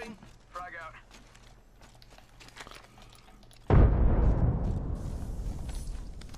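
A frag grenade going off in the video game Apex Legends, a loud sudden blast with a long rumbling tail, coming after quieter gameplay sounds and talk.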